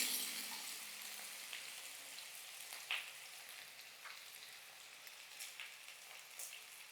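Potatoes fry in a pan with a steady, fairly faint sizzle and crackle, with occasional small pops and stirring sounds and no talking.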